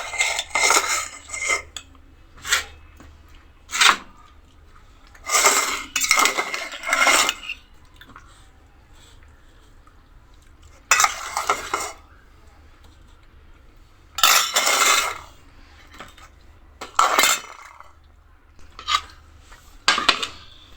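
Rice being served onto a plate alongside fish curry and greens, with bursts of clinking dishes and scraping cutlery separated by quiet pauses, close and fairly loud.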